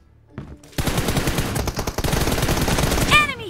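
Rapid automatic gunfire in the mobile battle royale game BGMI during a team deathmatch, loud dense bursts running nearly continuously after a short quiet start, with a brief ricochet-like whine near the end.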